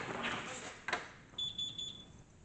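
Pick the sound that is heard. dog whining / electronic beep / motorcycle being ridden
electronic beep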